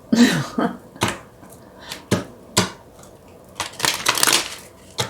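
Tarot cards being shuffled by hand over a spread of other cards: a string of dry, papery riffles and crisp slaps in irregular bursts, close and fairly loud, with no talking.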